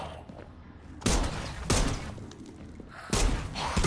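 Gunshots in Dead Island 2, three separate loud blasts spaced about a second apart, each ringing out over a quieter room-like background.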